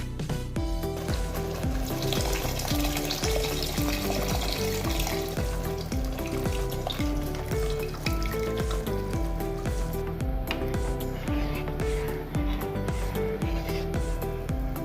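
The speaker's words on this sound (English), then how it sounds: "Now we add tamarind juice." Tamarind juice is added to a mackerel fish curry masala frying in a pan. A steady, loud sizzle and bubble runs throughout, with no talking, while rhythmic background music plays along.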